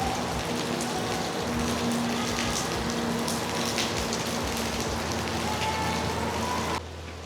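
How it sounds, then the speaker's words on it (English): Rain falls steadily and fairly loudly on hard surfaces at an outdoor mall in Downtown Summerlin, Las Vegas, a dense even hiss of drops with no voices. "Today is all rain."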